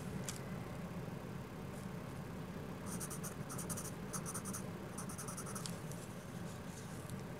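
A soft, dark 6B pencil scratches on paper while filling in a portrait's pupils, giving faint, close, scratchy strokes in short intermittent bursts over a quiet room hum.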